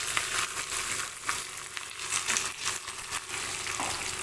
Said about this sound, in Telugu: ఇప్పుడు కట్ చేసి పెట్టుకున్న పచ్చిమిర్చి వేసుకొని ఒకసారి ఇలా కలుపుకోవాలి